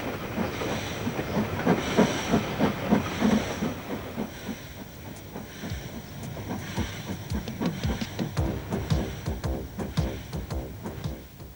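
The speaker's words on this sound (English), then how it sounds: "Locals wave goodbye to what seems like the last train on the line." A train pulls away along a railway line, steady wheel clatter and rhythmic clicks building over hissing, with continuous rail rumble close by and no talk.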